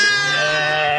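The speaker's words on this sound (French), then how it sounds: "c'est un frère de Moa qui s'occupe des moutons avec Aïcha, sa femme" Sheep bleating close by on a dry Saghro mountain farm, a single sustained harmonic bleat lasting about a second, loud and clear with no talk over it.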